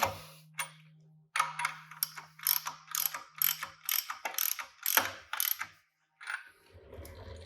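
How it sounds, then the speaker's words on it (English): A ratchet and socket clicks in quick, even bursts as flange bearing bolts are snugged down, a close, crisp pawl rattle repeated in several runs with short pauses and a faint steady hum underneath. "we'll just bring them down pretty snug with the ratchet and socket"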